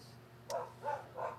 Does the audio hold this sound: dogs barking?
yes